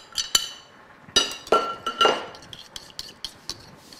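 A spoon stirs lemon zest and pulp together in a bowl, giving a handful of sharp clinks and light scrapes against the dish, close and moderately loud, spaced irregularly with no talking.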